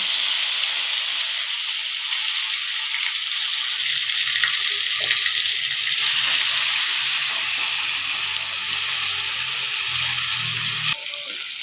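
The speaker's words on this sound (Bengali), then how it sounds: "দিয়ে দেবে এবার মাছগুলো" Koi fish frying in hot oil on a gas stove, a steady loud hissing sizzle with soft bubbling and a few faint stirring clicks throughout.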